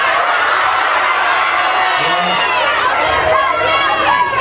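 A large crowd of students at an outdoor climate strike rally in Asheville yells out school names all at once, a loud, dense, overlapping roar of shouting voices that swells and fades.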